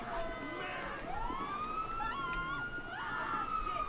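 An emergency siren from an ambulance in GTA 5 wails and swoops up and down continuously, moderately close, over a steady background of traffic-like noise.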